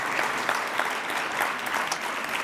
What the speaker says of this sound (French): Il est temps de l'applaudir lui-même